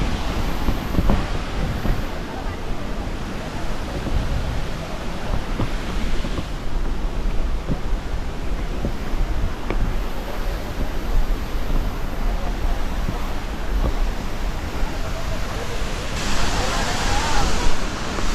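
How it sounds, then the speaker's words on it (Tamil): Athirapally waterfall roars as a constant broadband rush of falling water, heard from a distance with wind buffeting the microphone. The roar holds steady throughout and swells slightly near the end. "இந்த ஒரு ஃபால்ஸும் அங்கே 2 ஃபால்ஸும் விழுந்துகிட்டே இருக்கும்"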